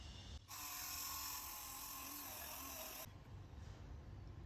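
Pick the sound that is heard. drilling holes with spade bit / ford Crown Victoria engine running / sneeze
drilling holes with spade bit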